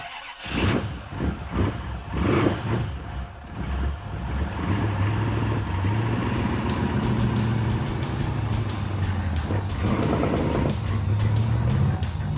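A 440 Dart's engine revs and roars continuously through a newly fitted exhaust with rising and falling pitch, loud and close, with tyre squeal mixed in as the car does donuts.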